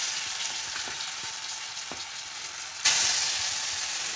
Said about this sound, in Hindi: काफ़ी ब्राउन हो गया है तो अब इसमें हम प्याज की पेस्ट डाल रहे हैं